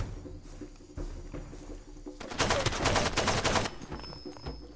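Bursts of rapid automatic gunfire in the video game Far Cry 2, loud and dense in the middle of the moment, with a quieter burst before and scattered shots after, no talk.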